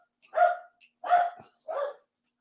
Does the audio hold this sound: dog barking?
yes